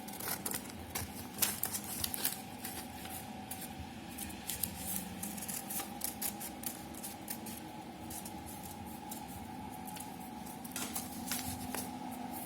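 Scissors snipping through folded paper to cut out a blaster template, a steady run of small crisp clips and rustles, close and quiet with no talking.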